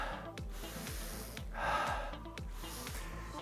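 During a standing neck-stretching fitness exercise, a person breathes audibly, with soft, close inhales and exhales. A steady rhythmic low pulse runs underneath.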